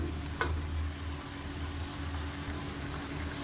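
Black urad dal vadas deep frying in hot oil over a medium flame, giving a steady close sizzle with a low bubbling undertone and one brief click near the start, alone without speech.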